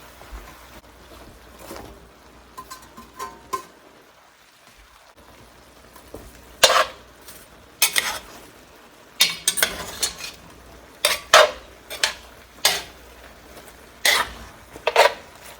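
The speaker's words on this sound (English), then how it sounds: "I'm going to add in 2 medium onions that I've coarsely chopped." Coarsely chopped onions go into a pot and get stirred for Texas chili, giving irregular close scrapes and clatters of a utensil against the pot, growing busier toward the end with no voices.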